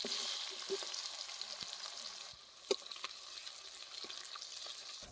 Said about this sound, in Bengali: পেঁয়াজগুলো হালকা করে ভেজে নেব।